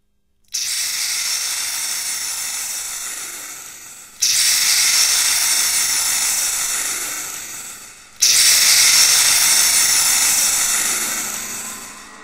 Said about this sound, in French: Babouche devient grosse, très grosse, énorme, et se met à souffler